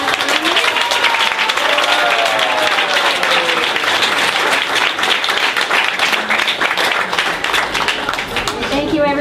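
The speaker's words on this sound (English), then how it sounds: "another round of applause." A large audience applauds steadily and loudly at the grand opening of a yoga center, continuous dense clapping that holds for several seconds with faint cheering mixed in.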